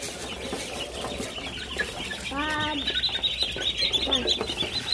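Ducks on a small farm quack and chatter nearby, with repeated nasal calls over a busy bed of fowl and bird noise that grows livelier toward the end.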